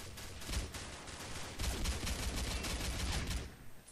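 Rapid machine gun fire in the Combat Arms shooter game, a dense rattling burst running almost the whole time with a short pause partway and scattered shots from other weapons mixed in.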